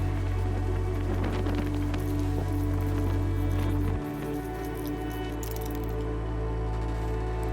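Primer coats being sprayed onto a car body during rust repair, a steady loud hiss over a low compressor hum that drops in pitch partway through.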